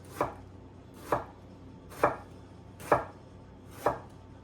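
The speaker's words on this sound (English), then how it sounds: "I like to cut it in half" A knife slices through a tomato onto a cutting board in five crisp, evenly spaced cuts, each a sharp close thud with quiet gaps between.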